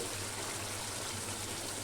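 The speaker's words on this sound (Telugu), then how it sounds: "దాంట్లోనే కొంచెం వాటర్ పోసుకుంటున్నాను" Water pours steadily into a pot of chicken curry seasoned with salt and chilli, a continuous splashing gush throughout.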